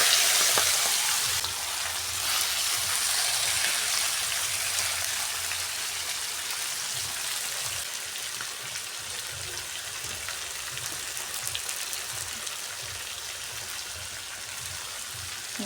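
Duck meat dropped into a hot pan with cumin, sizzling and frying steadily throughout, a loud bright hiss under occasional stirring, no talk.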